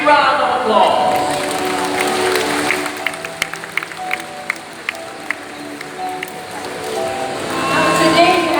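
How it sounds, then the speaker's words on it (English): Audience applause at an outdoor bird show at Birds Paradise Singapore, a broad wash of clapping that swells at the start, thins in the middle with scattered sharp claps, then rises again at the end. "Let's give them a big round of applause."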